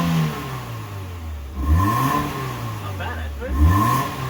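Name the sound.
BMW Z3 four-cylinder engine running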